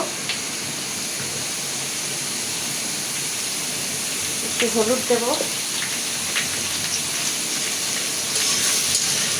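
Potatoes fry in hot oil with a steady, loud, hissing sizzle that runs throughout, while someone speaks briefly over it.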